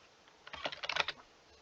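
A quick run of keystrokes on a computer keyboard, a short burst of about a dozen light clicks lasting under a second, close and clear against a quiet background.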